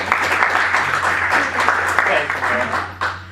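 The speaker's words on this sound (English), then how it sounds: "Let's give him a round of applause" An indoor audience applauding a speaker at a talk on property taxes, a dense, steady wash of clapping lasting a few seconds with a voice heard over it.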